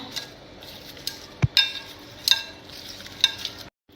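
Sliced onions being tossed and mixed with black salt in a bowl, a soft rustling stir with a few sharp clinks of a utensil against the dish, close and fairly quiet.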